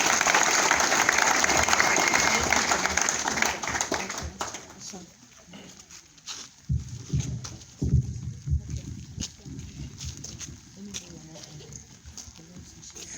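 Congregation clapping in a church, a dense wash of applause for roughly four seconds that thins into scattered claps and movement under voices.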